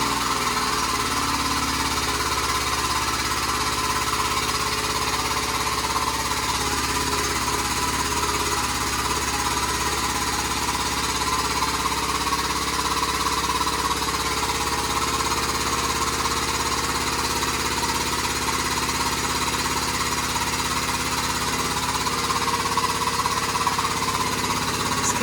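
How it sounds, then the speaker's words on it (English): An air compressor runs steadily in a garage workshop where a roll cage is being fitted to a Mazda FC RX-7, giving a continuous loud mechanical drone with a rattling, hammering pulse that holds level throughout and has no talk over it. "The air compressor is probably gonna turn on, it might get loud."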